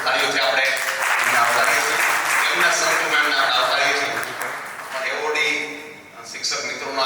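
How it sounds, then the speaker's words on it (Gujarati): An audience at a school teachers' gathering claps steadily to welcome a guest, with dense, even applause that swells and then thins slightly near the end. "ખૂબ તાળીઓથી આપણે એમને આવકારીએ છીએ"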